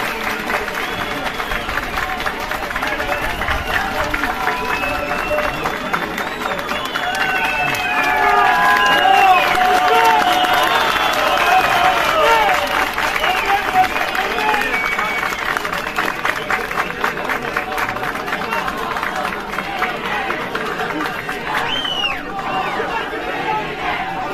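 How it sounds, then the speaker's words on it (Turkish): Sustained applause from a crowd at a mayoral swearing-in ceremony in Bolu rolls on for over twenty seconds, with a steady clatter of many hands, murmuring voices underneath and a brief swell near the middle. "kendisini alkışlarınızla davet ediyorum"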